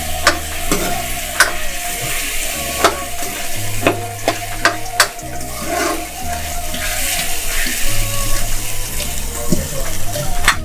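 A spoon stirs potatoes into masala in a sizzling pan, with repeated scraping clicks against the pot over a steady frying hiss.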